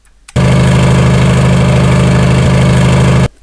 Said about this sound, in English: Okay, we have a warrior engine.